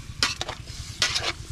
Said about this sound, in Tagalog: Parang maprito-prito siya.